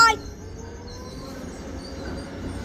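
A train passing close by, starting with a sharp loud burst and settling into a steady low rolling rumble with faint metallic tones over it, no talking heard.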